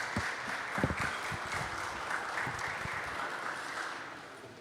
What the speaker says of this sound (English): We can applaud you again.